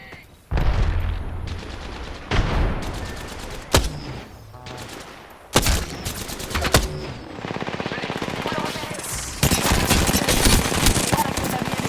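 Weapons fire in the battle-royale video game Apex Legends: loud automatic bursts and heavy single shots come in rapid succession, building into sustained fire near the end.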